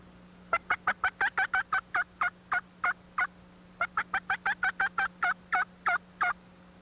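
A hand-operated turkey call imitates the wild turkey's springtime love pat, or assembly call: two quick runs of about a dozen sharp, evenly spaced yelping notes each, with a short pause between them. The calls are close and clear, with no talking.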